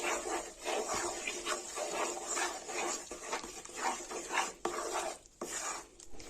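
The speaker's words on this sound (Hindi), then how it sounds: "कढ़ाई गरम है, अगर हम इसे चम्मच से नहीं हिलाएंगे तो ये नीचे से लग" A spoon stirs thick besan ladoo mixture in a hot kadhai, giving a steady close-up run of soft scraping and shuffling with occasional sharper metal taps, no talking.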